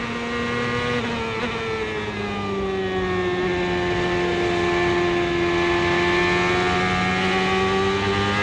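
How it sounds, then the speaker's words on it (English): A 1999 Reynard IndyCar engine at Milwaukee, loud and near, holding a steady high whine that slowly rises in pitch as the throttle is picked up coming off a corner. "You can hear how long it takes him to pick the throttle up coming off the corner"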